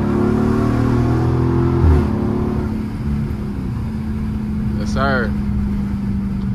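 A Dodge Charger Scat Pack's engine hums and revs from inside the car while driving, a steady low drone under a voice talking.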